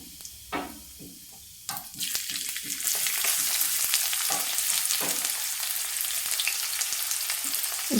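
White cumin seeds and a large chopped onion frying in hot oil: a few soft knocks at first, then a sudden loud sizzle that swells into a dense, continuous close-up hiss.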